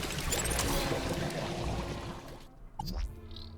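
Water refill pouring in the video game Beyond A Steel Sky, a gushing, splashing flow for about two and a half seconds that cuts off abruptly, followed by a short electronic chirp and a rising synthetic tone.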